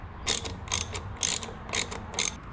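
Hose clamps on a coupler are tightened with a ratcheting tool, making five crisp, evenly spaced clicking bursts at close range over a quiet background.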